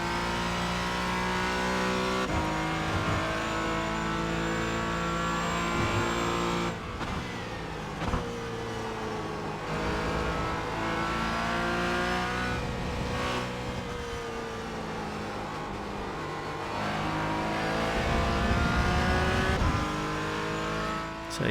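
A Porsche Cayman GT4 race car engine runs at Sebring in iRacing, droning loud and continuous as revs rise and dip through the lap, with brief shifts and lifts.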